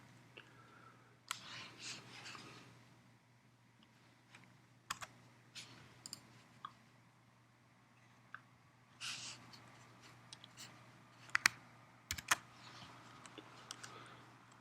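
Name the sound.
typing the root password on a computer keyboard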